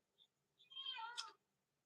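A cat gives a single drawn-out meow, quiet and fairly close, with a rising then falling tone ending in a brief sharper note, set against near silence.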